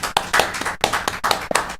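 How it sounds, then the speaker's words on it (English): A round of applause at a county board of education meeting, brisk close clapping from a small group in quick uneven bursts, loud and dry with no talk. "So I think that deserves a round of applause."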